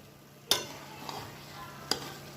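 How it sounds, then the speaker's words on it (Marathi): Beetroot and coconut ladoo mixture is stirred in a pan, giving two sharp scrapes of the spoon against the metal about a second and a half apart, with a soft sizzle between them. "आणखी मी 2 मिनिटं याला चांगलं परतून घेईल"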